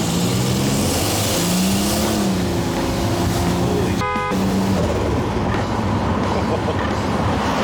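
A turbocharged, intercooled Buick Grand National accelerating hard under boost, a loud, sustained engine roar with rising pitch sweeps, a brief sharp break midway, and continuous wind and road noise throughout.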